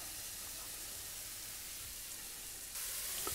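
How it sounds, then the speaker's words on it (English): Onion fries in oil in a pan with a steady hiss that carries on unbroken and swells slightly louder near the end. "and then we're gonna fry everything together"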